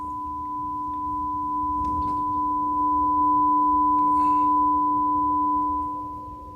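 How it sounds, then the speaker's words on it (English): A steady pure sine-wave tone played through an Aiwa AV-DV75 speaker, holding one high-pitched squeal with a lower companion tone, swelling gradually louder and then easing off near the end. "I can push a sine wave through it. And you just hear a high pitched squeal."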